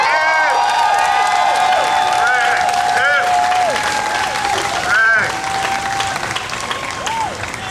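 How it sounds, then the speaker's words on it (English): A large crowd at an outdoor rally in Jacksonville, Florida claps and cheers loudly and continuously, with whoops and shouting voices rising and falling over the dense applause. "Let's give a round of applause for Commissioner Nikki Freed."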